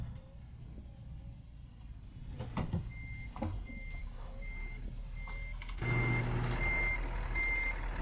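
Steady reversing beeps from a truck in Euro Truck Simulator 2 repeat at an even pace over a low engine rumble, getting louder toward the end.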